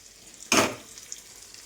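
Potatoes with turmeric and salt are stirred on a flat pan in one short, sharp scrape-and-sizzle burst over a quiet background hiss.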